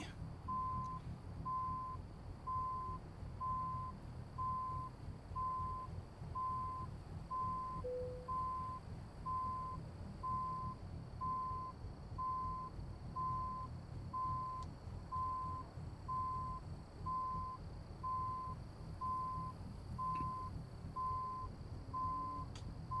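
A forklift truck in American Truck Simulator backing up, its reversing alarm pulsing in a steady evenly spaced series of beeps over a low engine and yard rumble, moderately distant and continuous throughout.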